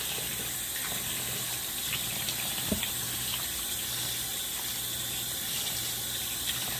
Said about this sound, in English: So I'm just going to rinse this off. I don't know why I'm using hot water.